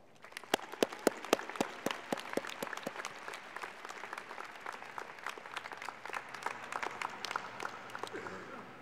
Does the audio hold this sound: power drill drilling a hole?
no